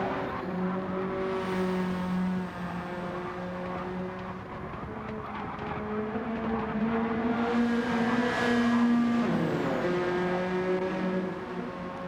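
Race cars in Gran Turismo 7 during an online Swift Cup race, several engines droning and revving together at steady loudness throughout, with rising and falling pitch as cars accelerate and shift.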